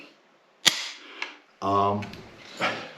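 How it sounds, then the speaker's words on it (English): A Savage 1899 lever-action rifle is dry fired, giving a sharp metallic click, followed by softer mechanical clicks and a short hum, close and quiet with no other sound. "I hate dry firing old guns"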